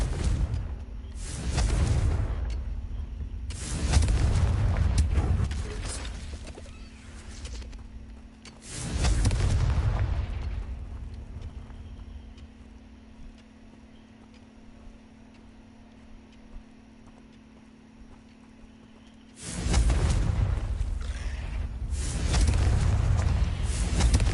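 Fire spell explosions in a fantasy video game, with two or three loud, deep booming blasts, each one rumbling on for several seconds and separated by quieter stretches with a steady low hum beneath.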